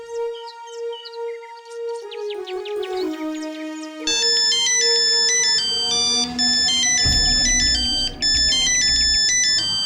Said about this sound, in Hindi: अरे मैडम कोई कॉल।